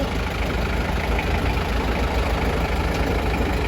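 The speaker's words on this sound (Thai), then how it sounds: "เครื่องยนต์ดีเซลนะคะคันนี้" The diesel engine of a Toyota 7FD25 forklift idles with a steady, low rumbling chug, close by and unchanging, with no voices over it.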